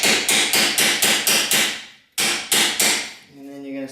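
A hammer taps a bolt through a Honda Civic/Integra B18C transmission mount, about nine sharp metallic blows in a steady rhythm with a short pause partway, each strike ringing briefly; close and loud, with no talking.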